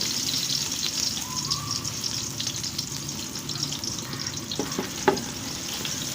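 Sliced large onions sizzle in hot oil and Dalda for egg biryani, a loud, steady, close crackling fry that runs throughout with small bubbling pops.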